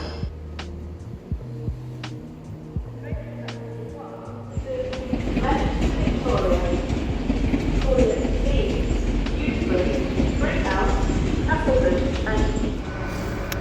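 A train moving through a platform at York railway station: a quieter opening with scattered clicks, then a loud, steady rumble and rattle of carriages that builds and holds for several seconds, close by.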